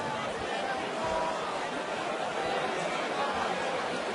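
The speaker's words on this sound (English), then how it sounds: "Crowd getting a little bit vocal." Steady crowd murmur and chatter fill a darts arena during the Phil Taylor versus Gary Anderson semi-final at the 2015 Dubai Darts Masters, a dense continuous babble with no single voice standing out.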